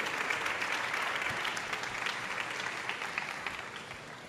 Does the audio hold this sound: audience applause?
yes